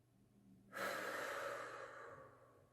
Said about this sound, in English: and then breathing it out like this